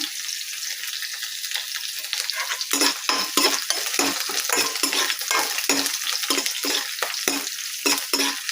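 A teaspoon of cumin seeds fries in hot oil, giving a loud continuous sizzle with dense crackling bursts and repeated stirring scrapes throughout, no voices.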